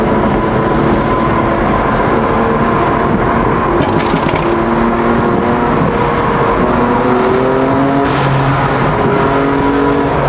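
A car engine revs loudly in third gear, a sustained, close, continuous roar whose pitch climbs and shifts as the revs rise, with no talking.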